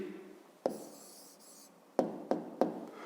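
A pen writes an answer on paper in short, close scratchy strokes, broken by several sharp taps. The scratching is faint, the room is quiet and no one speaks.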